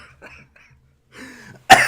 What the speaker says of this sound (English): I've got a bit of a chesty cough at the moment